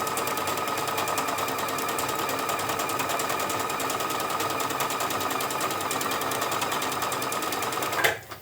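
A sewing machine runs a decorative stitch across a tote bag, a fast, steady mechanical chatter held loud and close for about eight seconds before stopping abruptly.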